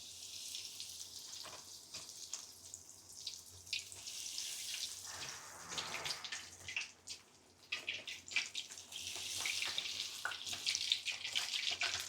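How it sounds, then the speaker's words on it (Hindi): Bread pockets frying in hot oil: a steady, close hiss and crackle of sizzling that runs throughout with small bursts of spatter, no talking. "ये हमारे ब्रेड पॉकेट्स यहाँ पर फ्राई हो रहे हैं"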